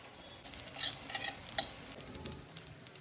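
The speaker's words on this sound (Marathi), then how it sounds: "त्यानंतर आपण खसखस भाजून घेऊयात" Poppy seeds dry roasting in a pan for Kolhapuri misal masala, with a spoon stirring and scraping in a series of light, clinking strokes over a faint background hiss.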